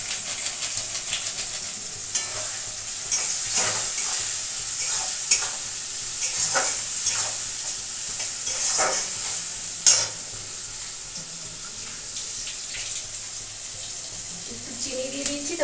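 Chopped onions with salt and turmeric sizzle steadily in a hot pan, broken by repeated scraping stirs of a spatula; the frying is close and fairly loud, with no talk over it.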